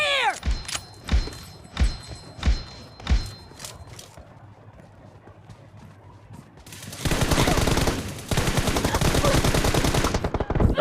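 Gunfire in the mobile battle royale game PUBG Mobile: four heavy single shots land at a steady beat, a quieter gap follows, then a long loud burst of rapid automatic fire runs to the end.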